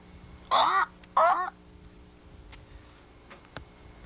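Two loud, harsh caws from a large bird ring out close by in a forest, spaced about half a second apart, followed by faint scattered ticks and clicks in an otherwise quiet woodland.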